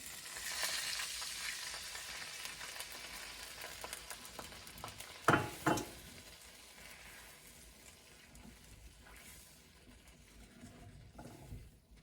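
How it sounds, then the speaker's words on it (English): Wine splashed into a hot pan on a wood stove to deglaze it, a soft sizzle and bubbling with a couple of sharp clanks midway, fairly quiet and fading toward the end. "just take a little bit of wine and just deglaze the pan"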